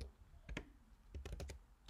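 Quiet clicks on a computer keyboard during Photoshop editing, a few separate keystrokes then a quick cluster of taps, close and faint with no voices.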